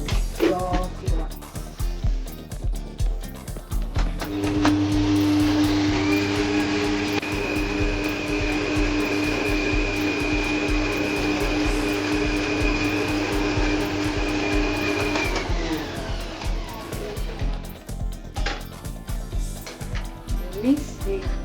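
An electric hand mixer creaming butter and sugar in a mixing bowl whirs with a steady motor whine for about ten seconds. Talk and light clatter come before and after.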